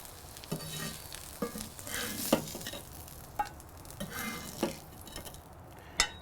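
Burger patties for Aussie burgers cook on a small cast iron skillet set on a charcoal grill. A soft sizzle runs underneath, broken by intermittent clinks and scrapes at irregular intervals.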